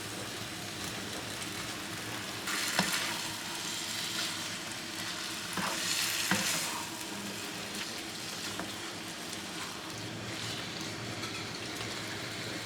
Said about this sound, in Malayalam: ഇതിലേക്ക് നമുക്ക് ഈ ചിക്കൻ കഷ്ണങ്ങൾ ചേർക്കാം.